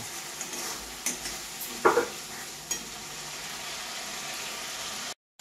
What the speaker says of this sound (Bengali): এইভাবে আমি কিছুক্ষণ ভাজবো।